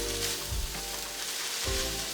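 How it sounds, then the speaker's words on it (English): Seasoned vegan food with red pepper flakes, black pepper and salt sizzles steadily in a pan, with a couple of soft scraping stirs breaking through the continuous frying hiss. "I'm just gonna stir this all together."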